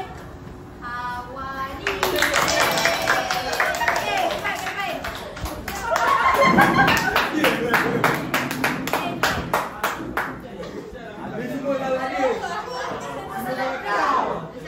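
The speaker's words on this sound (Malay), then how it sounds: "Okey, bagi tepukan yang paling gemuruh untuk kumpulan" Classroom group claps for the winning team, bursts of quick hand clapping rising and falling under excited children's chatter and a teacher's voice, with a brief lull between rounds.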